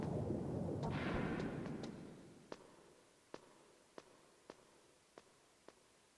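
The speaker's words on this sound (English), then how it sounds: "That is what you call an explosion." A loud blast in the Metal Gear Solid game near a communications tower, a roaring rumble that fades over two seconds, followed by a series of sharp, regularly spaced cracks or impacts.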